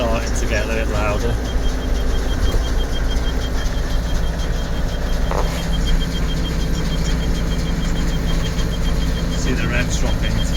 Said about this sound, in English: See the revs dropping to 530.